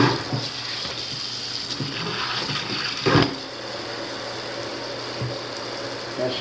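Hot water runs steadily from a tap in a newly built North Texas house, a constant rushing hiss with a brief louder splash midway, heard close up with no one speaking.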